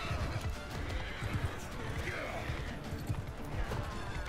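Horse neighing and thudding hooves in the medieval combat game Mount and Blade II: Bannerlord, a whinny rising over steady galloping hoofbeats with a voice talking underneath at times.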